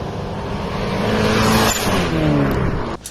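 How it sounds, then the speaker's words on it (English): A turbocharged Toyota 4AG engine in a Tercel revs loudly nearby, its pitch rising and falling before cutting off sharply near the end. "making some awesome turbo 4AG noises"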